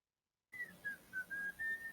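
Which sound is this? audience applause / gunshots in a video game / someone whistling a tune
someone whistling a tune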